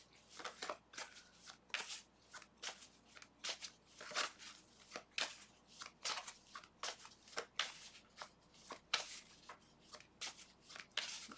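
Tarot cards shuffled steadily by hand during a reading, a quiet, close run of rapid riffling and flicking bursts repeating with no one speaking.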